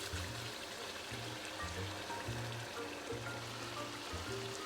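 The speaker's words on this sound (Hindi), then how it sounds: "अब हम इसको पानी लगा देंगे थोड़ा सा" Water poured into a pan of frying fish to start a gravy, giving a steady bubbling, sizzling hiss with dribbling, stream-like wash running throughout, close and continuous with no talk.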